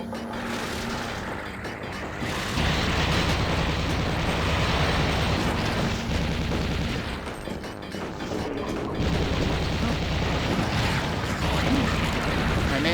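Grenade launcher rounds detonating in MeowGun: Hell Denizen, a dense, loud run of booming blasts and bursts that rolls on without a break, with no voices over the top.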